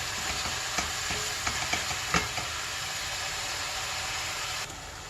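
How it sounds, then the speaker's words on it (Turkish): Minced meat sizzles steadily in a hot pan, with occasional scrapes and clicks of a utensil stirring it close by. "Kıymalarımı kavuruyorum."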